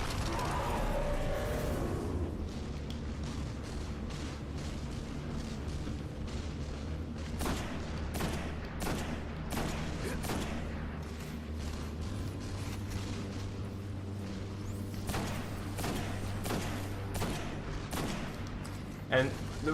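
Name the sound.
sniper rifle shots in a video game (Destiny, Nexus strike)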